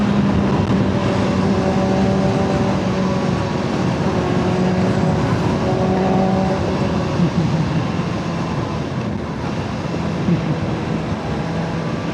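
Kawasaki Ninja ZX-6R SE four-cylinder sport bike heard from the rider's seat: a loud, steady high-revving engine drone mixed with heavy wind roar, without clearly separated gear changes.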